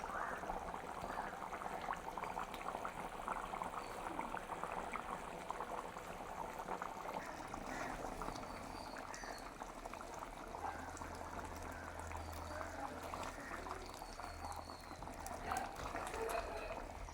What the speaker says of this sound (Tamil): கறி வந்து நல்லபடியாக கொதிச்சு கொண்டு வந்துடுது